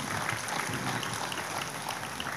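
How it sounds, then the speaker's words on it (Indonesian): Continuous applause from an audience at a religious gathering (haul commemoration) in Ponorogo, Indonesia, a dense steady wash of clapping with no distinct voices, heard from a moderate distance. "Tepuk tangan untuk Pak Giri."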